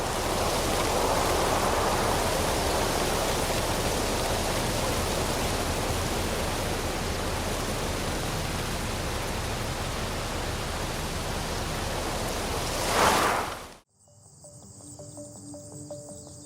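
Strong wind roaring through a tree in a steady, loud broadband rush that swells briefly before cutting off, followed by a faint tonal tail.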